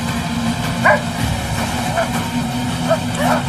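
Several short dog barks and yips at a moderate distance, irregularly spaced over a steady background rumble, with voices mixed in.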